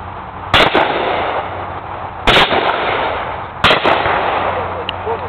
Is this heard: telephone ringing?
no